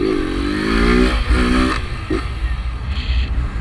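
A small motorcycle engine running in first gear, heard close and loud with rising revs, then choppy idling putters and uneven bursts, with no speech over it.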